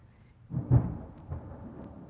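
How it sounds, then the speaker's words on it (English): Thunder rumbles outside, a single low, muffled roll that swells for about half a second and then fades into a softer tail, heard indoors at a moderate distance with no talking. "You guys probably heard that thunder."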